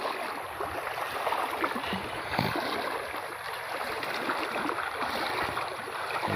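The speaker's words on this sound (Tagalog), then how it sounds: "tatawid tayo ng ilog" Rushing water of a rain-swollen, flooded river during a crossing, a steady broadband wash with occasional splashes, close and continuous with no talking.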